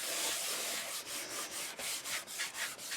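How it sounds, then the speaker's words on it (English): Glued paper being burnished flat onto a keepsake book page by hand, giving a continuous soft rubbing and scraping with a run of quick rhythmic strokes toward the end. The sound is close and fairly quiet, with no talking. "glue, turn it around, give it a little wiggle, and burnish down"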